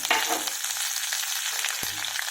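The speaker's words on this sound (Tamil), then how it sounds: "இப்போ எண்ணெய் ஊற்றி கடுகு வெந்தயம் போட்டுருக்குறாங்க. அப்புறம் கருவேப்பிலை, காஞ்ச மிளகாய் போட்டுருக்குறாங்க" Mustard seeds, fenugreek, curry leaves and dried red chillies crackle and sizzle in hot oil for a rasam tempering, a steady close frying hiss with a sharp pop near the end and no talk.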